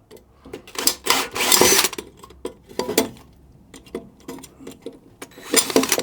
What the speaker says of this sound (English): So I'll have a little bit poke at it with a drill